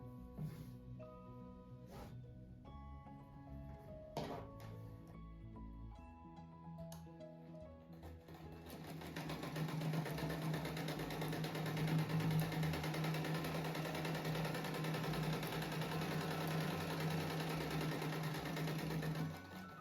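Sewing machine stitching a center seam on a beige and yellow patchwork rug; after a few scattered clicks and taps, the motor starts and runs in a steady, fast, even whir for about ten seconds, close and fairly quiet.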